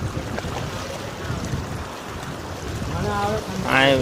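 Water pours out of a village sluice like a small river, a steady loud broadband rush with wind buffeting the microphone, close by, with a voice speaking briefly near the end.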